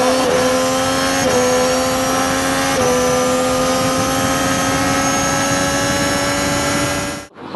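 A 2013 Triumph Daytona 675 R motorcycle engine revs loudly and close by, climbing through several quick rises in pitch before settling into a sustained high whine that cuts off abruptly near the end.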